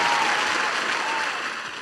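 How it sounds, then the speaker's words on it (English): A short burst of applause from a small group, loud and fairly close, fading slightly over under two seconds. "Can we get him the applause?"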